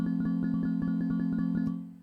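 A sustained synth tone repeats a short loop on an OP-1 Field sampler, with a sharp click at each loop point, about eight evenly spaced clicks before the tone fades.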